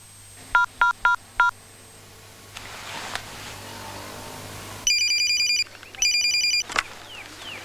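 Telephone ringing indoors: four short electronic tone bursts, then a quieter stretch, then two longer trilling rings close by.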